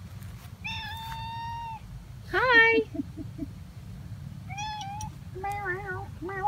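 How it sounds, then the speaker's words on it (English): Several meows from a cat outdoors near apple trees, some drawn out and some short, close and clear over low background rumble, with a person briefly speaking. "What's the kitty's name?"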